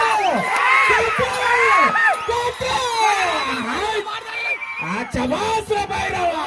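Crowd at a bullock cart pulling contest in Kurnool district, Andhra Pradesh, cheering, whistling and shouting in a loud, continuous roar, with rising whistles and whoops cutting through.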